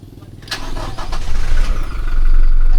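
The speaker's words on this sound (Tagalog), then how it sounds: "Painitin natin ang ating sasakyan." A vehicle engine cranks, catches and starts, then settles into a loud, steady idle that builds as it warms up.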